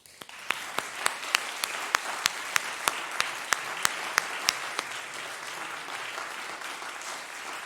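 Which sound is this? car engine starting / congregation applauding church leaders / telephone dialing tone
congregation applauding church leaders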